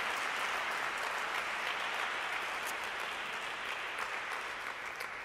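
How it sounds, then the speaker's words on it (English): An auditorium audience at a Duke faith event claps for panelists, a dense, even wash of applause at moderate distance with a few crisper claps near the end. "I would like to invite you all to please applaud once again our panelists"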